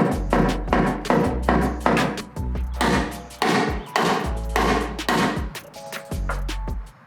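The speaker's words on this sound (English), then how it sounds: "I have been trying to avoid hammering my engine bay since I painted it." Repeated heavy metal hammer blows on a car engine bay ring out at a steady, deliberate pace, each strike clanging with a short resonant tail, close and loud.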